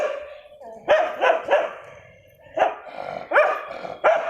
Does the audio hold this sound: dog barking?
yes